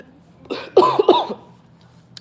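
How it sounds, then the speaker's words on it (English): A couple of sharp, close coughs in quick succession, with a short throat-clearing rasp, then quiet. "I don't know where that cough came from"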